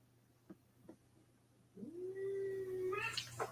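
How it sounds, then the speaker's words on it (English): Cats yowling before a fight, a drawn-out caterwaul that holds steady and then rises into harsher cries, fairly distant and faint, after a couple of soft knocks. "We're about to have a cat fight."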